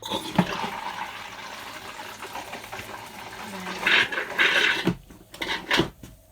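A camper toilet is flushed during winterizing, a rushing water swirl rising and falling in a few bursts with gurgling and clunks, close and moderately loud, no talking.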